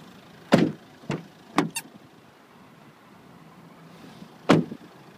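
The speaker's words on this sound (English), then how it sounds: "Electric windows all round." Power windows on a 2007 Nissan Qashqai 1.5 dCi make a few short mechanical bursts of motor whir and clunks, spaced apart over a quiet background with no talk.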